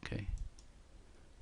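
A single computer mouse click comes near and sharp at the start, with a faint second click at the end over quiet room tone.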